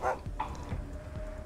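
A dog enemy barks in the Wasteland 3 video game, short yelps standing out over the game's background sound and rumble, fairly faint in the mix.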